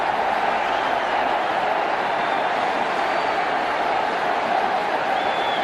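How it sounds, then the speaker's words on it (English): Roaring crowd at a Bangladesh vs Sri Lanka Asia Cup 2018 cricket match, a steady, dense wash of cheering and applause filling the stadium without a break. "There's certainly some excitement in the crowd here."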